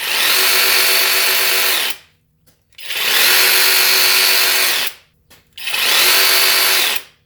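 SKIL 12V cordless reciprocating saw cutting in three loud, close bursts of about two seconds each, with brief silent pauses between them and no talking.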